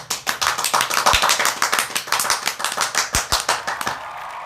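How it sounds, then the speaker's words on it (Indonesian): A small studio audience claps for an arriving guest, a scattered run of individual hand claps at close range, uneven in rhythm and thinning slightly toward the end. "Oke, tepuk tangan."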